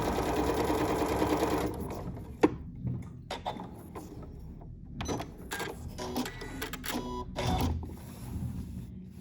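A Janome MC9450 sewing machine runs while quilting: a brief steady whirring run, then quieter stop-start bursts of needle clatter up close, with no voices.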